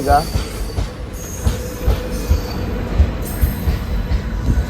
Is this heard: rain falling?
no